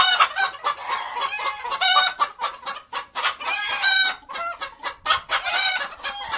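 Several roosters crow over steady clucking from a crowd of chickens on a house rooftop, with males outnumbering hens, the calls loud, close and almost continuous.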